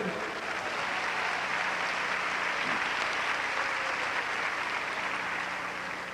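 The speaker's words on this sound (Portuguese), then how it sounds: "Give him a hand, would you" Church congregation applauding a guest singer during a bilingual service, a steady wash of clapping that holds at an even level for the whole stretch with faint voices underneath.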